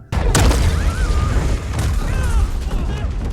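Deep booming blasts burst out twice amid a steady rumble in a Stranger Things season 5 scene, with a voice talking over the effects throughout.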